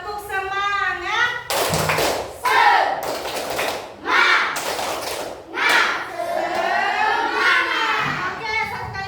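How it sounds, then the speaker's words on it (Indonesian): A classroom group does a rhythmic spirit clap (tepuk semangat), with sharp clusters of hand claps mixed with children's chanting voices and a teacher talking. "Tepuk semangat."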